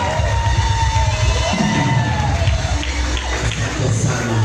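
A church congregation at a Swahili-language service cheers and shouts for Jesus, a loud, sustained crowd roar with high whoops and children's voices over a low rumble, continuous for several seconds.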